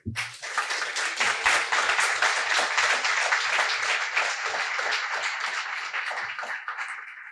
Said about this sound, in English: give our employees a round of applause today